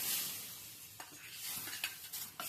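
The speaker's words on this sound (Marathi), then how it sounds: "ही आता मी या दुधामध्ये मिक्स करणार आहे" A spoon stirs roasted barnyard millet into milk for a fasting kheer, giving faint, close scrapes and soft clinks against the pot at irregular intervals.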